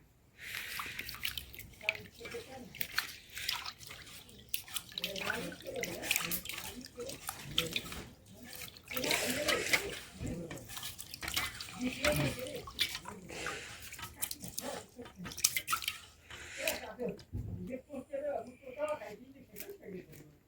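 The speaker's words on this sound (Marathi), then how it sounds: "स्वच्छ प्रकारे पाण्याने तांदूळ धुवून घेतले" Rice is rinsed by hand in clean water for a village-style khichdi, with intermittent splashing, dripping and sloshing that come and go under frequent talking.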